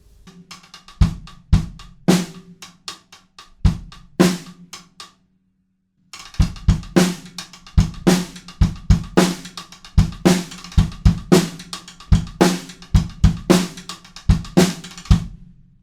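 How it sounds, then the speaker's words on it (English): Sharp, woody drumstick clicks on a snare drum rim tap out a busy rapid sixteenth-note pattern with accents, pausing briefly once before resuming, played close and crisp. "we have a busy 16th pattern up on the rim, probably of the snare drum"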